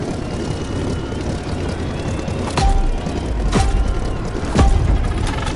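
Aircraft in The Crew Motorfest video game taking off, a steady broadband engine roar with three heavy booming thumps layered over it.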